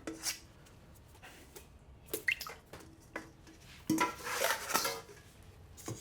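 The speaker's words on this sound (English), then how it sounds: "So take all that goodness out of the bowl, scrape every little bit as much as you can." A scraper works baguette dough out of a bowl, giving a few soft, close scrapes and knocks in bursts, with quiet gaps and no talk.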